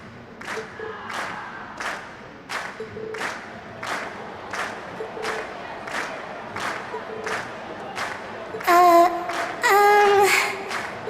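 A video game concert crowd cheers and claps in repeated swells over rhythmic music, building to louder bursts of shouting near the end of an RPG performance scene.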